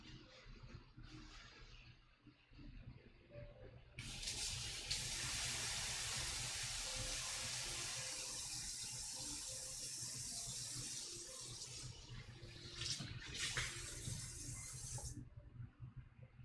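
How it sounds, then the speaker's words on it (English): A kitchen water tap runs into a sink while a pan is rinsed out, a steady splashing rush that swells louder for several seconds and then cuts off, close by with no talking. "Pan rinsed out."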